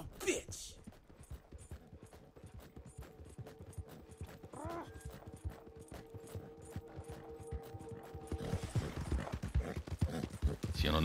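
A horse's hooves clip-clop in a rapid, steady rhythm in the video game Red Dead Redemption 2, moderately loud throughout, with brief mechanical clicks and a short tonal flourish mid-way, occasional speech in the background.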